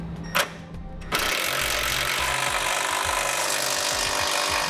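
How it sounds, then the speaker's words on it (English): A 9/16 wrench and socket snugging up hardware on a Blue Ox base plate kit on a 2009 Honda Fit, a brief metallic clink followed by a steady close ratcheting, scraping rasp. "Now we'll come back with that same 9/16 wrench and socket, and we're going to snug up all of our hardware."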